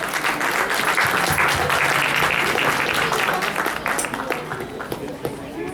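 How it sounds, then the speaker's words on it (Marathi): A crowd at a Marathi school Diwali program applauds the event committee and helpers, with full, dense clapping that holds steady before tapering into scattered claps. "त्यांना सुद्धा एका टाळ्या वाजवून"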